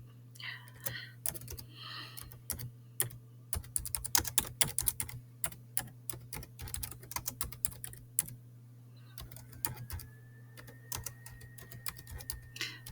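Typing on a computer keyboard in a quiet room, bursts of close, crisp key clicks with short pauses and a faint steady hum underneath.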